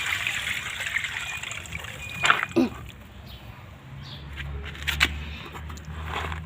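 Water is poured out of a basin of lemongrass in a small home vegetable garden, giving a soft trickle with a few sharper splashes and scrapes. It sounds close and moderately loud, with no talking.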